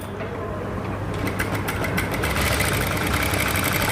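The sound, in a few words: sewing machine stitching the neck and shoulder seam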